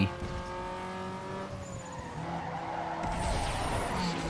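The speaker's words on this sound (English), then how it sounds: "use the nitrous to get out of the power slide there" Game car in Need for Speed Underground 2 power-sliding, tires skidding with a sustained squeal over the engine's droning, shifting pitch, the engine growing louder near the end.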